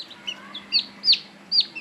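A Mini Cochin chicken gives short high clucks and chirps, about four brief calls spaced unevenly, close and clear over a quiet background.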